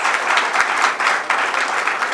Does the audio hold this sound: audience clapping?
yes